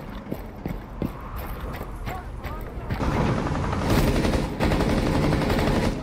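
Rapid automatic gunfire from a Rainbow Six Siege terrorist-hunt round, bursts rattling close and loud through the second half over steady game noise, with a player talking over it.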